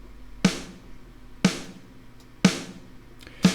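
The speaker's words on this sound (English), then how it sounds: "to make my snare sound like this." Acoustic snare drum from a Logic Pro drum preset, struck four times at an even pace about once a second, each hit a sharp crack with a short bright decay, alone and fairly loud.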